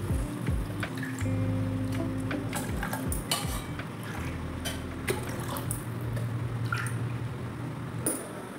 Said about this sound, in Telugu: దీంట్లో వాటర్ పోసుకోవాలి